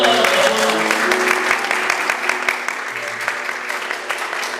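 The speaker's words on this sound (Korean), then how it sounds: "우리 임명식 집사님과 우리 임감선 저자님 박수 한번" Members of a Korean church congregation clap to welcome two guests at a Sunday service, a fairly loud, dense round of applause that gradually tapers, with some background voices mixed in.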